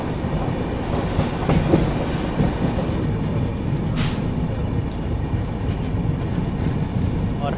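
A Humsafar Express runs out of Chennai Central, its coaches rumbling with a steady clickety-clack of wheels on rail, heard from inside the train as a dense, continuous roar.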